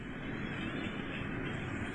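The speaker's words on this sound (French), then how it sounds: "on dirait que c'est un avion qui passe et qui rajoute quelque chose par-dessus" A fixed-wing airplane passes overhead, giving a steady, even engine roar that holds at a distant, moderate level for two seconds with no voices.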